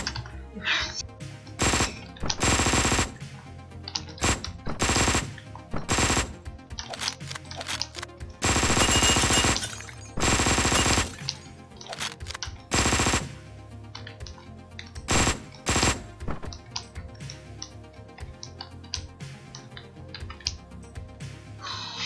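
Rapid weapon fire from the top-down action game Hotline Miami 2, including Uzi and shotgun blasts, loud bursts of gunfire in quick clusters with short gaps over an underlying game soundtrack.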